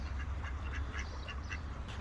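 Ducks quacking on a cold winter morning near Barry Island, a run of repeated close quacks over steady low background rumble.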